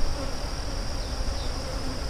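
Honey bees buzz steadily at an open hive during a check of a hive split, a dense, continuous drone close by with no talk over it.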